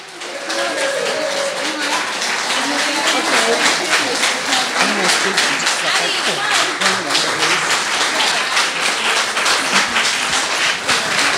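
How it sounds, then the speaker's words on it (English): Indoor audience applause for an election integrity event team, a loud, steady round of clapping that builds and continues with voices calling out beneath it. "so everybody give them a round of applause"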